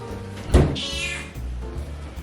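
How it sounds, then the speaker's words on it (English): A cat at a door gives a short, close meow followed by soft, low purring, with a faint thump in the background. "Just purring at the door."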